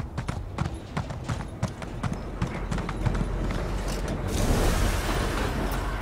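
Horse hooves clip-clop in a quick, even rhythm as a mount is ridden in The Elder Scrolls Online, clear and close, shifting into a louder rushing wash near the end.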